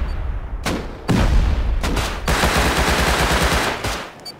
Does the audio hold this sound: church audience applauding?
no